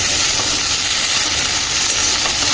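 A loud, continuous hiss of okra and potato frying in a covered pan, steady and unbroken throughout, with no voices.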